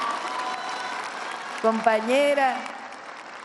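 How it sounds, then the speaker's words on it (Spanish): A crowd at a political rally applauds in a steady wash of clapping beneath a voice calling out over a loudspeaker. "vamos a darle un aplauso"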